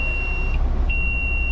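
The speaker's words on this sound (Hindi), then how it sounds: "ये बीप वाला सेंसर काफ़ी लाउड है" Inside an electric intercity coach, a sensor alarm gives a steady high-pitched tone that breaks off briefly and resumes, over a constant low vehicle rumble.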